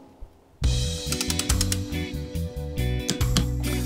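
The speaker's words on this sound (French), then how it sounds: "on va utiliser la grosse clé dynamométrique, la balèze, avec une douille de 17, réglée sur 40 Nm" A large torque wrench with a 17 mm socket, set to 40 Nm, ratchets on the oil drain plug of a GY6 four-stroke scooter engine, giving a close, loud series of rapid clicking bursts after a brief quiet start.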